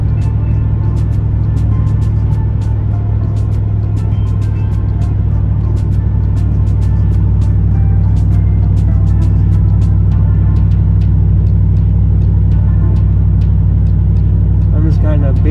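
A V8 car engine cruising at a steady, gentle throttle, a continuous low rumble with road noise that holds even and close throughout, no voices over it.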